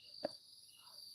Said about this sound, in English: on an acacia tree outside my home that make this high frequency buzzing sound.